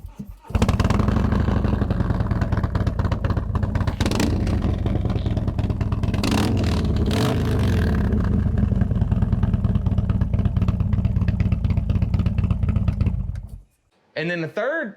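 A Harley-Davidson motorcycle exhaust fitted with TTI baffle inserts set for the deepest tone idles loudly and rumbles with a deep, steady pulse, rising briefly in a rev near the middle before cutting off; a voice follows at the end.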